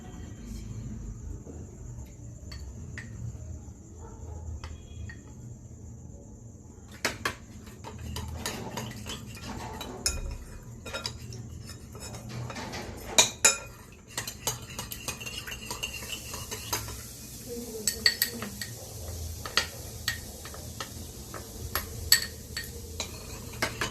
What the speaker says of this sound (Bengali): পরিমাণ মতো জলে কর্নফ্লাওয়ারটা গুলিয়ে নেব।